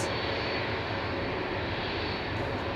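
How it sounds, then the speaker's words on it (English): An EasyJet Airbus A320-200 jet airliner, registration EZWC, produces a steady, dense engine roar, loud and unbroken throughout, with no voices. "Airbus A320-200, registration EZWC."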